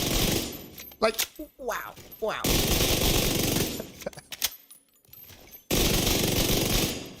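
Rapid automatic rifle fire in The Division 2 comes in long, loud sustained bursts separated by brief pauses, with a player talking briefly between the volleys.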